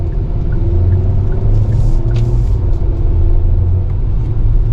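A 2025 Hyundai Kona N-Line S AWD engine pulls under acceleration, a loud steady in-cabin drone with low rumble and brief changes in pitch as the gears shift.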